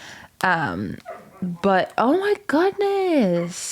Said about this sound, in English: Sorry if you can hear my dog in the background.